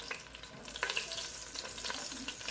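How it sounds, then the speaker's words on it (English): Lightly floured beef sears in hot oil, giving a fairly faint but dense, crackling sizzle with small pops throughout the short stretch. "we're just going to sear this real quick"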